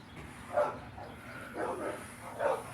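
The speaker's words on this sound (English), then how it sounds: "That's a mean dog." A neighbor's dog barking nearby in three spaced, throaty barks over low background noise.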